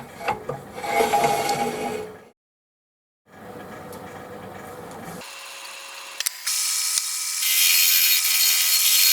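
A wooden surface scraped by hand in rough, rasping strokes, close and steady, then a short pause before more scraping that gives way to a thin high whine.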